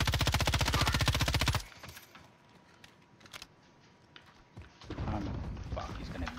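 Enemy automatic gunfire in Call of Duty Warzone, a loud rapid burst of rattling shots for over a second, then quieter scattered single cracks and a muffled swell of noise near the end.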